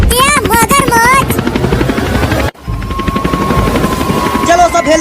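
A helicopter's rotor chops steadily and loudly throughout, with voices and music-like tones layered over it and a brief cut midway.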